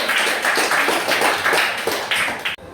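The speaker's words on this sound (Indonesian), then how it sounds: "kita berikan tepuk tangan untuk kelompok dua" A small class applauds a student group in a religion lesson. Close, distinct hand claps fall in a loose, quick rhythm from a few people, then cut off abruptly just before the end.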